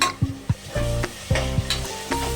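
Tomatoes and onions sizzle in a frying pan while a spoon stirs them, with repeated scraping strokes and clinks against the pan over a steady hiss.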